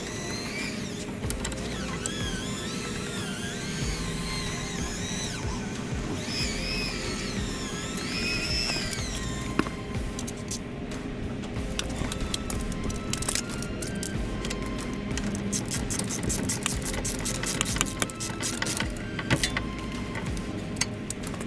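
Tool turning a bolt underneath a Honda CRX during a coilover suspension install, with a whirring ratcheting whine followed by irregular metallic clicks and cracks, close up and continuous.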